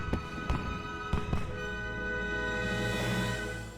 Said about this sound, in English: that's like the most underwhelming firework ever